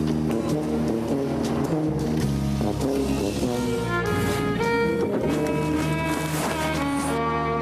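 A car driven slowly at about 20 km/h between traffic cones by a driver wearing drunk-simulation goggles, its engine droning steadily and shifting in pitch, close and continuous, with no talking.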